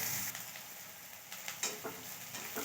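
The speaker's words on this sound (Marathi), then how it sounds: "कांदा आपला छान तळतो बघा तळत चालाय आहे" Onion frying in a pan until reddish, a soft continuous sizzle with a few scrapes and clicks of a stirring spoon near the end, fairly quiet and close.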